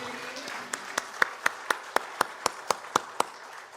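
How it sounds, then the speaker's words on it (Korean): A church congregation at a Sunday joint service applauds, with one set of loud, evenly spaced claps standing out in a steady rhythm over softer scattered clapping, about a dozen sharp beats in quick succession. "여러분들도 응원하는 마음으로 큰 박수 한번 보내주시기 바랍니다"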